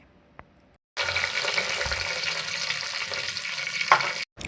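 Green chillies fry in butter and oil with spices, giving a steady, loud close-up sizzle that starts abruptly after a faint knock and runs unbroken for several seconds before cutting off briefly at the end.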